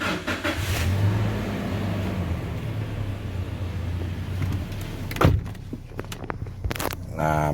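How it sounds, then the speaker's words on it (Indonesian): Toyota Kijang Innova Reborn 2.0V with manual transmission, its engine steady and loud throughout, followed by a sharp mechanical clunk and a few clicks near the end. "Sekarang kita coba hidupkan dulu mesinnya"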